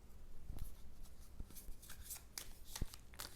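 Oracle cards by Colette Baron Reed being shuffled by hand, a close run of soft riffling and flicking sounds with sharper snaps scattered through, no voice.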